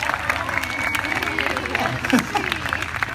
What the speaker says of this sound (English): Big round of applause for all 4 of them.